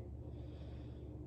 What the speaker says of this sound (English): breathe in through your nose and you want to push your stomach out